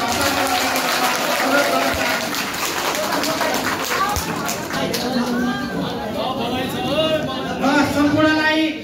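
A community forest users' meeting in Nijgadh-8, Bakaiya, applauds approval of its new committee. A steady, dense patter of clapping and crowd noise runs throughout, with voices talking over it.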